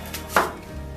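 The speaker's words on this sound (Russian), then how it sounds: "Нарезаем его меленько." A knife finely chopping onion on a board makes a single close, crisp chop.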